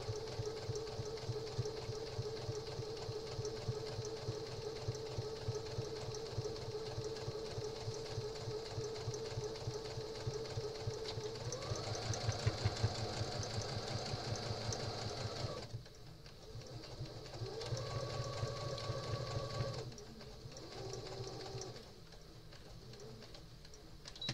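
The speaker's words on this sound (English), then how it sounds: "I'm going to stitch right along that, that edge" A sewing machine stitching along the edge of a quilt block runs at a steady rapid hum for about fifteen seconds, stops briefly, then resumes in shorter bursts that end in pauses; no one speaks.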